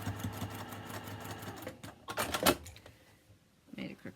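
A sewing machine runs in rapid bursts stitching the center seam of a quilted Hunter's Star jacket, whirring runs broken by brief pauses and a sharper clatter near the end.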